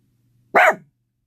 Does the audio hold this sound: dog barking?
yes